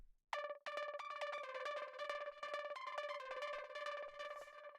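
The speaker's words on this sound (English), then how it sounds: "So that's the reverb, and also we have a delay." Soloed delay effect on a synth element from an uptempo tech house track, a bright harmonic tone struck in quick rhythmic repeats that smear into one another, playing steadily and alone with no voices.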